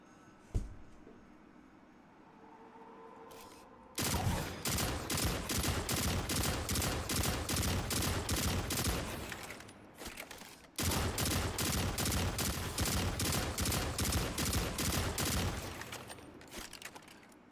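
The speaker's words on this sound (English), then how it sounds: "it's the freaking Halo battle rifle" Halo battle rifle in the video game Destiny 2, fired in two long sustained bursts of rapid, evenly spaced loud shots separated by a short pause, after a quieter opening.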